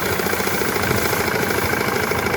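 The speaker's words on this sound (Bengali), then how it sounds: "ছোট্ট একটি মেশিন আছে মেশিনে দেখেন বেল লাগানি আছে মোটর দিয়ে ঘুরতেছে আর ধান দিতেছে" A small motor-driven paddy threshing machine with a belt drive runs steadily while rice is fed in, giving a dense, continuous mechanical drone with a rapid rattling pulse, loud and close.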